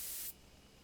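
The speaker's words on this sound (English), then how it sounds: "Take carefully aim and spray the drug." A brief, loud hiss of drug being sprayed at a hive in the video game Spirit Hunter: Death Mark, lasting about a third of a second before cutting off into faint background noise.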